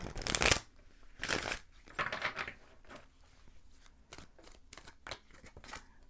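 Tarot card decks being shuffled in a few quick riffled bursts, followed by lighter separate taps and flicks of cards, close and fairly quiet.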